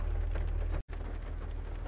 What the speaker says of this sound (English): No, it's pouring rain